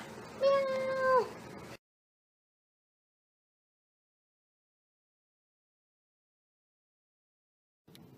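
A cat gives a drawn-out, wavering meow up close, then falls silent for several seconds before a faint sound returns at the very end.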